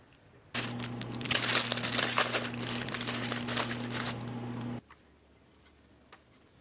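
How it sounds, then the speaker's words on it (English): A paper towel is crinkled and pressed into a lunch box, giving a close, busy rustling and crackling that runs for about four seconds over a steady low hum, then stops. "In the top, I always put a paper towel, stick it up here"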